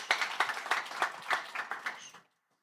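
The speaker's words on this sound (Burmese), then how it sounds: "လက်ခုပ်တီးပြီး" A group of guests claps at a wedding ceremony in a brisk, uneven patter of close handclaps. The clapping lasts about two seconds and then stops abruptly into silence.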